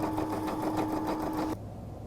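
A Brother PE-500 embroidery machine sewing a satin stitch gives a fast, steady, close mechanical whirr of rapid needle strokes that stops abruptly after about a second and a half, leaving quiet room tone.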